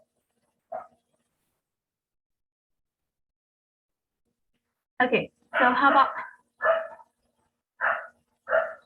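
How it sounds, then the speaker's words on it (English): A dog barks in a run of four or five short, loud, close barks spaced about a second apart, after a brief spoken word and a long silence. "can you hear the voice of the dog there?"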